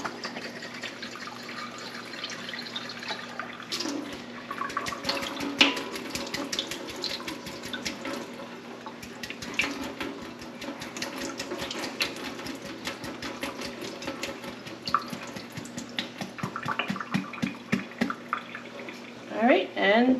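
Running tap water rinses sprouts during germination, a steady close splashing stream with scattered drips and clicks, continuous throughout.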